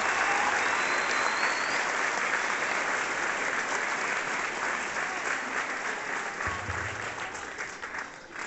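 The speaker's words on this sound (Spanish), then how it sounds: "Fuertes los aplausos para la contadora público Rosario Zárate Castracena" A school sports event audience in La Ciénega, Zimatlán gives a long burst of loud, dense applause that holds steady and tapers off near the end.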